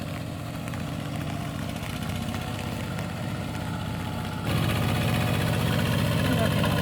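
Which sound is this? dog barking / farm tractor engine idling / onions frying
farm tractor engine idling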